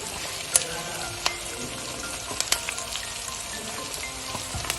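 Onion, chopped green chilli and grated ginger fry in a pan for fried rice and chilli chicken, with a soft steady sizzle broken by a few sharp clinks of the spoon as it is stirred.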